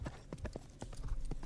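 Horse hooves clip-clopping in a medieval GTA-style video game, an irregular series of close, sharp hoof strikes at walking pace with faint voices underneath.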